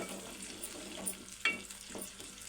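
Fried chicken, onions, garlic and chillies are stirred in a pan for spicy chicken, giving a quiet, low sizzle broken by a couple of soft utensil scrapes and knocks against the pan.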